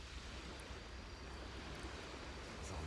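Ocean waves wash onto a beach at night beside a campfire, a faint, steady surf hiss with no distinct breakers and no one speaking.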